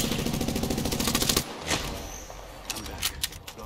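Rapid automatic weapon fire in Apex Legends rattles off in a fast, even stream of shots, then breaks into scattered, quieter distant shots and impacts.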